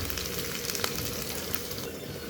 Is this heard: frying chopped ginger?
yes